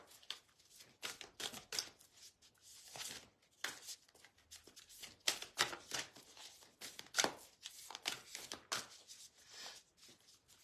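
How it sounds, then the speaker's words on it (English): A deck of cards is shuffled and handled indoors, quick crisp riffling bursts and soft snaps coming in irregular clusters, close and quiet. "Laurie's way better at shuffling these cards than I am."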